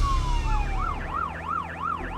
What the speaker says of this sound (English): it's going to be lights and sirens